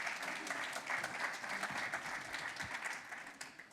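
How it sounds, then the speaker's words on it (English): A room full of people at a housing awards ceremony claps steadily in dense applause for several seconds, fairly loud and even throughout, with no speech over it. "Round of applause for Councillor Roach, please."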